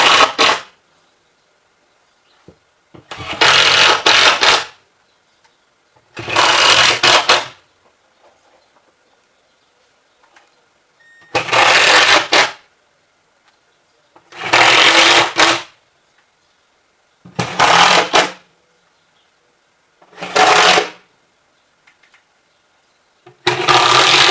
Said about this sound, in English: Put some screws in it.